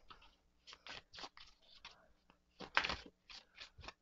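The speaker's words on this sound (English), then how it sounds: "So I'm going to shuffle." A tarot deck on US Game Systems cardstock is shuffled up close, giving soft, quiet bursts of riffling and papery crunching in short irregular runs with brief pauses.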